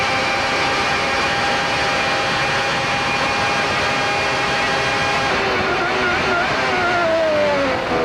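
A 1995 Ferrari Formula One engine screams at about 17,400 rpm in qualifying at the Brazilian Grand Prix, a continuous piercing whine that drops in pitch toward the end as the car slows.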